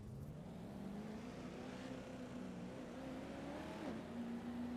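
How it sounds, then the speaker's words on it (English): Engine drone of a pace truck circling the track in the iRacing game at Long Beach, a steady hum gently rising and dipping in pitch, faint and continuous with no voices. "Pace truck's rolling around."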